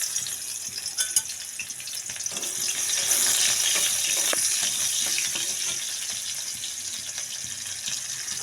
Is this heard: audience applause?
no